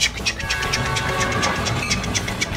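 A cartoon-style train sound effect from a preschool circle-time show plays a quick, steady rhythm of light chugging clicks over a soft rolling rumble, moderately loud and uninterrupted.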